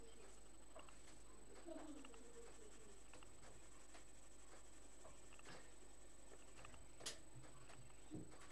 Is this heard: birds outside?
yes